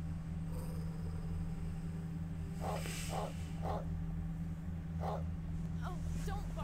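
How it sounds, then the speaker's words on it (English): A frightened dog barks indoors, about six short barks spread across the stretch, moderately near, over a constant low electrical hum. "Oh, don't bark so much."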